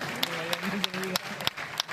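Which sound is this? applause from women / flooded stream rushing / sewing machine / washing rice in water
applause from women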